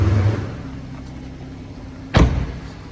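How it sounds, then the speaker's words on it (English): Bonnet release lever being pulled inside a BMW M140i Shadow Edition hatchback, heard as a single sharp mechanical clunk near the end after a steady quiet cabin hum, no voices. "I'm going to jump out and show you 2 pulls on the bonnet."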